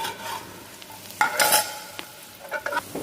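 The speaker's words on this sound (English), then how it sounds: "The rice we will saute for few minutes." Rice stirring in hot butter in a pan for mushroom risotto, a steady sizzle with scraping stir strokes and brief louder bursts of frying.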